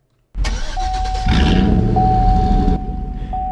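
A 2002 Chevrolet Silverado GMT800 pickup cranks briefly and its engine catches, roaring up loud and close before settling into a steady idle, with a constant electronic chime tone running alongside.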